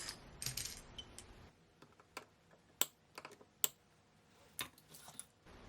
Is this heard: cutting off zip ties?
yes